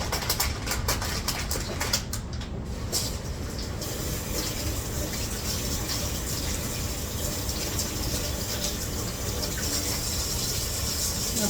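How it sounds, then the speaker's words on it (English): Cold water runs steadily from a tap over potatoes being washed, a continuous gushing splash with faint handling noises and no talk. "He's going to wash a bunch of those in cold water."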